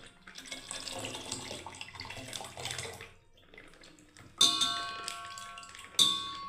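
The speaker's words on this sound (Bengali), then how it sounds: "এই দেখুন বন্ধুরা দুধটাকে আমি ঢেলে দিচ্ছি ভালোভাবে।" Milk from a 1 kg packet is poured into a pot, giving a continuous liquid splashing and gurgling for about three seconds, followed by a quieter stretch and two sharp metallic clinks.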